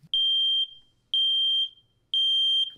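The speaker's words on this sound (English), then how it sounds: "the alarm will beep." Household smoke alarm sounding three loud, piercing electronic beeps, each lasting about half a second and evenly spaced about a second apart, with no other sound behind them.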